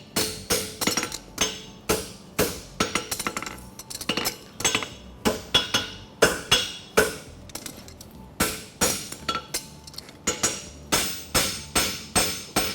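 A hammer strikes a steel bar on an anvil while a fullered straight-bar horseshoe is forged at a blacksmithing competition. The blows ring out sharp and metallic in steady bursts of repeated strikes with short pauses between them.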